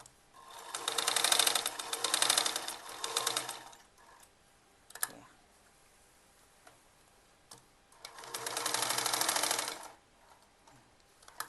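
A domestic sewing machine stitches an elastic strip on a baby frock, running in two fast rattling bursts of a few seconds each, separated by a quiet pause with a single click.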